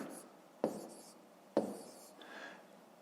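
A pen or pencil writes numbers on paper up close, giving soft scratchy strokes between two sharp taps, quiet and with no talking.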